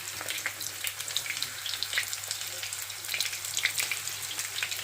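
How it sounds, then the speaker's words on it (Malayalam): Chicken pieces frying in hot oil in a pan for a chilly chicken dish, a steady dense crackling sizzle with bright popping spatters throughout, close and continuous, with no talking. "നമ്മൾ ചിക്കൻ അങ്ങനെ നന്നായിട്ട് ഇനി ഫ്രൈ ചെയ്തെടുത്ത് മാറ്റി വെക്കണേ"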